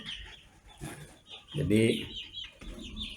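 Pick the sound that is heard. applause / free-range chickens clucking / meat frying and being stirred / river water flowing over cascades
free-range chickens clucking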